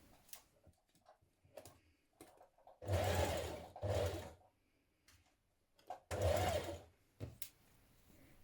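A sewing machine stitches a 1 cm sleeve seam on a blouse in two short runs of quick, rhythmic needle chatter, separated by quiet pauses with light handling ticks.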